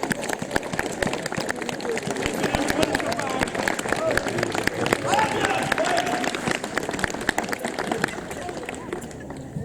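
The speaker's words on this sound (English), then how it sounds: "another round of applause for your cast" Outdoor audience at a Wars of the Roses re-enactment at Raglan Castle applauding the cast, a dense continuous patter of many hands with crowd murmur and voices mixed in.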